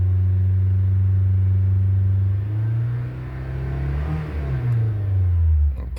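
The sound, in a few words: 2012 Honda Accord 2.4L engine revving to fuel cut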